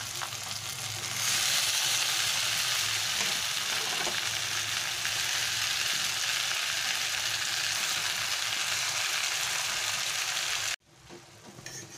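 Taro stolons frying together with tilapia fish in a small, crowded pan give a steady, loud sizzle that holds for about eleven seconds, then drops sharply to a quieter crackle.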